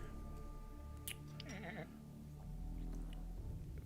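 A man imitates a goat with a short, wavering bleat heard over a steady indoor hum, a brief quavering cry lasting under a second.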